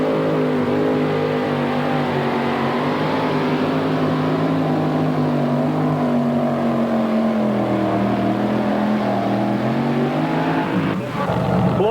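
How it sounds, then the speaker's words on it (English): A 2WD pulling truck roars at full throttle during an NTPA truck pull at Chapel Hill, Tennessee in 1993, its loud, sustained engine drone wavering in pitch across the run before dropping briefly near the end. "Floyd Hilton, first of 7 out of the gates here at Chapel Hill in the pull-off"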